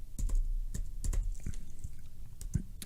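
Quick bursts of typing on a computer keyboard entering a shell command, crisp close key clicks in uneven clusters with short pauses, alone without talk.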